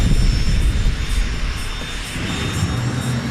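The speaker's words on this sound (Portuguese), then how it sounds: "A explosão faz o ar se expandir e ser lançado como um jato pelo exaustor." A jet engine roars loudly and steadily up close, a dense broad rumble with a faint high whine riding on top, with no voices.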